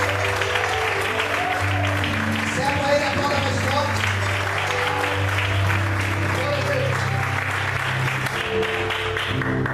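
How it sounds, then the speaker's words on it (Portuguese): A church congregation claps together in sustained, even applause, continuous and fairly loud throughout, over steady background music and a voice speaking. "Vamos aplaudir a Deus"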